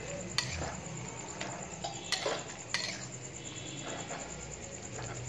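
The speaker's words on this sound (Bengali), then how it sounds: "চলো এটা একবার নেড়ে দিচ্ছি।" A spoon stirs and scrapes a potato and pointed gourd filling in a pan, with sharp metallic knocks and clinks against the pan over a soft background sizzle.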